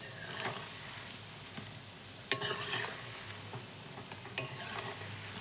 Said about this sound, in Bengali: পকোড়াগুলো 10 মিনিট বেশ সুন্দর করে ভাজা হয়েছে